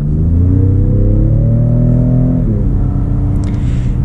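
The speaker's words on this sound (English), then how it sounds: "Hear a lot of noises from the turbo, and then also that V6" A 2020 Ford F-150 Raptor with a turbocharged V6 accelerates hard in sport mode, its loud engine note climbing steadily before dropping at a shift, then pulling again with turbo whoosh near the end.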